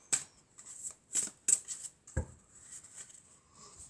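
Tarot cards handled close up: a few quick shuffling flicks and snaps, then a light tap as a card is set down, followed by soft rustling, all faint and with no talking.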